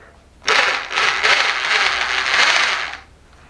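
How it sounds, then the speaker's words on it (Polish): Pneumatic SDS hammer drill boring into a wall while mounting a lamp, one loud harsh burst of about two and a half seconds, starting and stopping abruptly, close by. "Powiem wam, jakie to są super wiertarki z udarem pneumatycznym."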